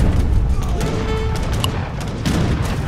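Battlefield cannon fire in Age of Empires 3, steady overlapping volleys and booms rumbling throughout with a brief sharp crack midway.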